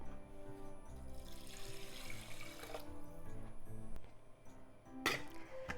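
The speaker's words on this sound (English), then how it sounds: "It's 2 cups of rice, so I'm adding 2 cups of water." Water runs into a pot of Japanese rice, about two cups, as it is measured out for cooking. The pouring is steady and close, with a brief splashy burst near the end and no talk.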